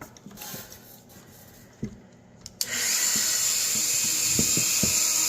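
Dremel rotary tool with a burr carving a wood spirit face into wood, quiet handling taps and clicks at first, then a sudden steady high-pitched whine of the spinning tool that holds to the end.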